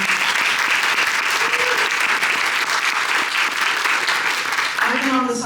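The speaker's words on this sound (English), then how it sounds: "can we give her a round of applause?" Audience applause breaks out for the county sheriff at a community gathering, a steady, dense clapping that fills the whole stretch, with a brief voice rising out of it near the end.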